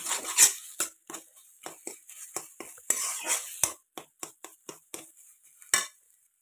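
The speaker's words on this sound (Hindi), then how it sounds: "नमक डालने के बाद हम इसको लो फ्लेम पे बैंगन का लगातार एक मिनट ऐसे भूनेंगे" Mashed eggplant for bharta being roasted and stirred in a pan on low flame: irregular close scrapes and metallic clinks of a spoon against the pan, with short pauses between strokes and no steady sizzle.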